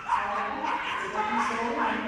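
A working cocker spaniel, five years old, gives rapid excited barks and yips during an agility run at a Crufts dog show, with arena noise and commentary around it.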